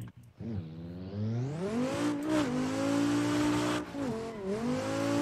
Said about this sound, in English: the car does sound amazing